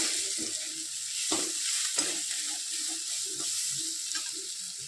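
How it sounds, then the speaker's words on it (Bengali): Turmeric, coriander and cumin powders fry in a pan for a biryani, with a soft steady sizzle and scattered scraping stirs, close and moderately quiet, no voices. "সমস্ত মশলাগুলো দিয়ে একটু হালকা করে কষিয়ে নিলাম।"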